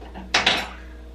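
A knife clatters against a board while a thin omelette is sliced into strips, a brief close pair of sharp knocks and scraping in an otherwise quiet kitchen.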